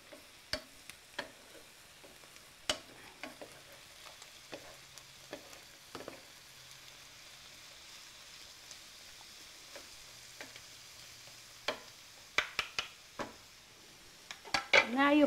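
Celery and other fillings for stuffed mushrooms cook quietly in a pan under a faint sizzle, with intermittent clinks of a utensil against the pan that cluster into a louder burst of clatter toward the end.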